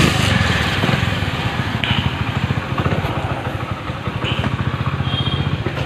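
A motorcycle engine runs steadily and loud up close during a mileage test ride, with a rapid, even pulsing throb throughout.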